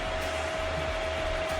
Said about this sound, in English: Sorry about the noise the extractor's still on